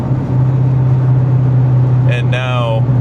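A 2014 Ford Mustang GT/CS with a new aftermarket exhaust, driven in the rain, holds a loud, steady, deep engine drone throughout, with a brief voice breaking in near the end.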